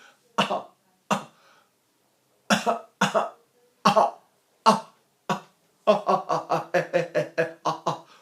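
A string of small, short coughs, a few spaced out then a quicker run of about eight light bursts close to the mic, with no talking.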